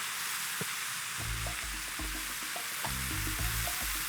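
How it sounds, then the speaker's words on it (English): Steak sizzles and spits steadily in a hot pan for fajitas, with scattered pops and scraping clinks of a utensil, no voices. "Now we're sizzling."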